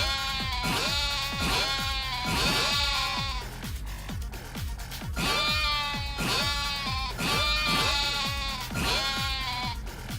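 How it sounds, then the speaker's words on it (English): Sheep bleating in the video game Yakuza: Like A Dragon: loud, close, wavering bleats repeat in a steady rhythmic pattern over low thumping beats, with no talking. "Get lulled to sleep by the sound of sheep murder."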